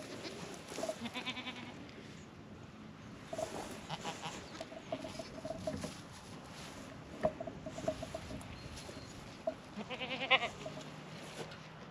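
Several Kiko goats bleat intermittently on a farm in cold, wet weather, some near and some farther off, amid soft outdoor ambience and scattered rustling, with a few chicken-like calls mixed in.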